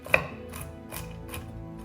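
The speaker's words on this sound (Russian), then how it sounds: "я нарезаю орехи на мелкую крошку" Rhythmic chopping of walnuts with a knife on a board, about four or five steady cuts, close up with no talking.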